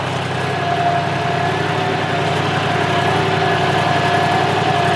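John Deere tractor engine running steadily at a low, even throb with a faint mechanical hum, close and constant with no talking.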